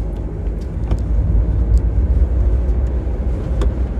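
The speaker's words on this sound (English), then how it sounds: "Now, hear that? Bloody clutch." A car's noisy clutch, recently oiled, gives a low rumbling drone with a few faint squeaks and clicks scattered through it, moderately loud and with no talking.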